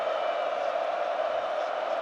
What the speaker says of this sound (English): The crowd are getting ready.